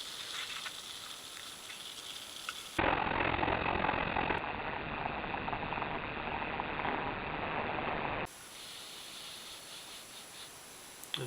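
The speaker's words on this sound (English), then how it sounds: "Try to pop the top on here without blowing up the whole studio." A can of Cherry Vanilla Coca-Cola popped open with a sudden loud hiss that runs steadily for several seconds, then cuts off back to quiet room tone.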